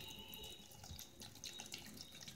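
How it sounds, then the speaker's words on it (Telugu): Water is poured steadily into cooked dal holding raw mango pieces and green chilli pieces, giving a soft, continuous splashing pour for a couple of seconds in a quiet kitchen. "ఇలా ఉడికించిన పప్పులో మామిడికాయ ముక్కలు, పచ్చిమిరపకాయ ముక్కలు వేసుకుని వాటర్ పోసుకోవాలి."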